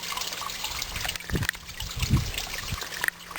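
Water trickles and burbles steadily nearby, a small spring-fed mountain stream near Hoverla in the Chornohora range, with occasional louder splashing gurgles.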